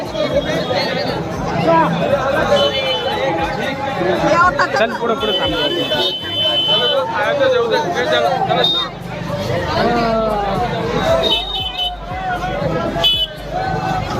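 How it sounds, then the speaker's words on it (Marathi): A dense crowd of pilgrims at the Kashi temple fills the air with constant close babble and chatter, with someone speaking briefly over the hubbub. "हे बघू शकता काशीला खूप गर्दी आहे"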